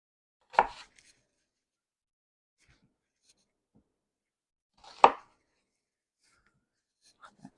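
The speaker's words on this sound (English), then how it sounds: "This says a quarter of a medium onion. We're gonna mince it just because." Two isolated knife strokes through onion onto a cutting board, several seconds apart, each a close, dull thunk, with only faint small sounds in the quiet between them.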